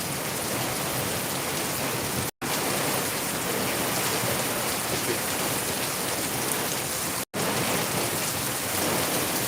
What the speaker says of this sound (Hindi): झमझम करके बारिश हो रही है।